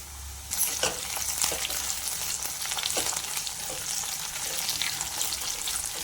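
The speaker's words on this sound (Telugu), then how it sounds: "పెద్ద సైజు ఆనియన్ను వేసేసుకొని ఫ్రై చేసుకోవాలి. అదేవిధంగా కొద్దిగా కరివేపాకు కూడా వేసుకోవాలి." Large chopped onion and curry leaves frying in a pan, a continuous near sizzle with occasional stirring clatter, fairly even loudness throughout and no talking.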